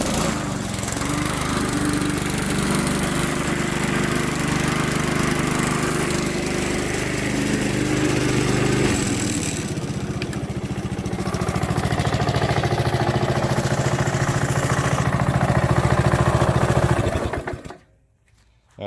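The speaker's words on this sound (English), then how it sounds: "even on a cold start, it starts on the first or second pull every time" A Honda HRX217 lawn mower engine runs steadily and loud at close range, a constant buzzing drone that shifts slightly partway through, then winds down and cuts off near the end.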